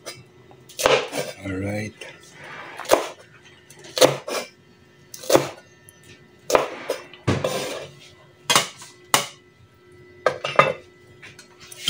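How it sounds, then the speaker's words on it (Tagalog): A knife chops chili peppers on a board in a home kitchen while a bola-bola meal is being prepared, giving sharp irregular cuts and clinks, fairly close, with brief talk. "Hiwain natin yung sili."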